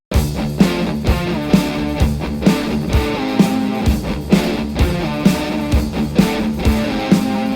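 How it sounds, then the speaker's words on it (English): Two electric guitars, one panned left and one right, play a proto-metal intro riff together: a dense, loud, driving pattern with regularly accented chugs throughout, no voices. "The intro riff consists of two guitar parts, one panned on the left and one panned on the right."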